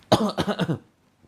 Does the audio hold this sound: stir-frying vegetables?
no